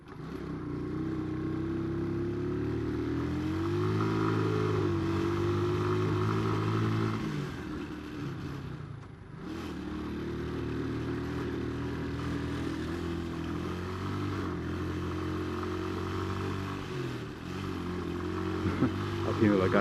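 Motorcycle ridden along a road in Yemen, its engine droning steadily up close with rising and falling revs and a brief dip midway, while a rider talks over it throughout.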